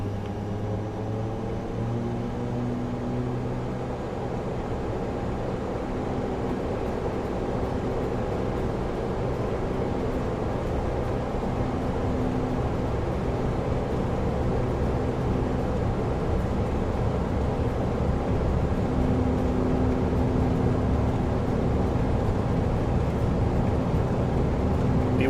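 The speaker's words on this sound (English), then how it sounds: "we'll get those engine throttle noises up so you can hear" Steady, loud drone of ATR turboprop engines in a flight simulator game, a continuous tonal hum with engine harmonics that slowly builds as the throttle rises, with no talk over it.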